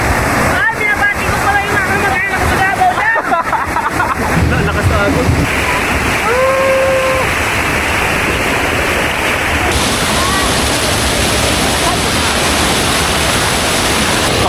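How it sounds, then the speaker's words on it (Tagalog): Strong current of cold spring water rushing steadily at Bungan Bungan Cold Spring in Nabas, Aklan, a loud, continuous close-up roar with voices speaking and calling out over it. "Malakas yung agos."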